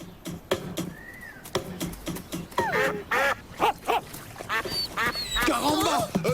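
Cartoon duck quacking in a French animated school comedy, a run of bright nasal quacks and squawks mixed with cartoon voices and effects, loud and up close.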